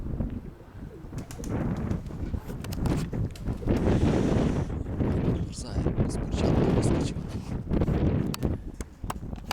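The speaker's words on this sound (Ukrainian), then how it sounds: "Вітерець добрячий такий вже." Strong wind gusting outdoors beside a pigeon loft, steady broadband roar buffeting the microphone throughout, with pigeons cooing and someone talking over it.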